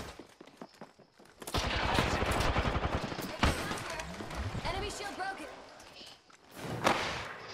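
Rapid automatic gunfire in the battle-royale shooter Apex Legends, heard as fast, loud bursts with thuds and impacts over several seconds, mixed with game voice lines.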